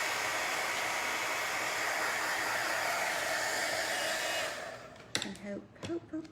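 A hair dryer blows loud and steady at close range over a stencil coated with chalk paste, then switches off, leaving a few faint clicks and handling sounds.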